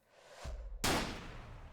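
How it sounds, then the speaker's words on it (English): A single gunshot rings out in a video game as a hare is shot, a sharp loud bang that follows a brief whooshing rise and then trails off into a fading tail. "The sound of a gunshot."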